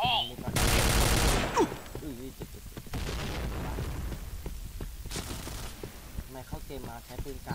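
Grenade explosion and bursts of gunfire in the shooter game Point Blank, loud blasts and rapid rattling shots with a heavy boom near the start, mixed with a voice talking throughout.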